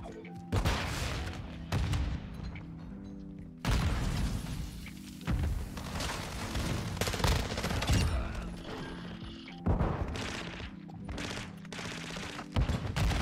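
Gunfire in a first-person shooter game with an MP7 and bomb objective: repeated loud bursts of automatic fire and sharp shots in several clusters, with some muffled booms and players talking between them.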